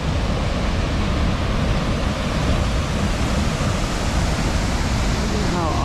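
A North Shore waterfall pours in a constant, dense rush of white water, loud and close, with no break across the whole stretch.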